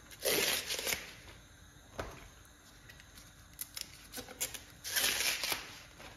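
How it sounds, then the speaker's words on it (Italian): Scissors snip through leaves of cavolo nero in a kitchen during pesto preparation, with several crisp cutting bursts scattered across the moment, fairly close and moderately loud. "Può tagliare anche con le forbici."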